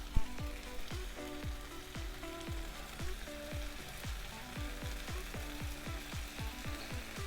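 Chicken searing in a hot pan, a steady close sizzle with regular crackling pops that repeat evenly throughout.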